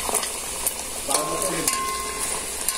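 Fish fries in a hot pan with a steady, close sizzling hiss and the occasional sharper crackle, with faint voices in the background.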